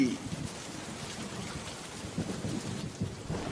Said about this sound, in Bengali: কতদিন পর বৃষ্টিতে ভিজছি